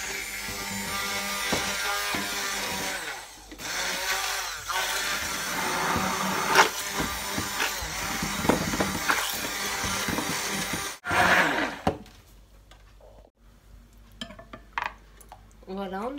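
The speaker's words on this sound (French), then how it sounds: "je vais utiliser un batteur comme ceci pour éviter les grumeaux." An electric hand beater whirs steadily through thin, egg-free and milk-free savory crêpe batter in a bowl, a loud continuous buzz with rattling against the bowl that cuts off near the end, leaving quieter handling noises.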